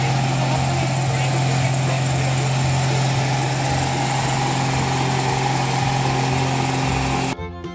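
Steady, loud engine drone for a road roller toy truck, a continuous idling rumble that runs unbroken for several seconds and then cuts off sharply at the end.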